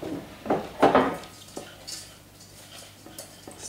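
A spoon scraping and clinking against a dish while stirring a small amount of chocolate, a few soft knocks and taps close by, then quieter scrapes.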